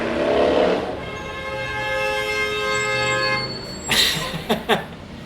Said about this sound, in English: a car and a motorcycle about to hit each other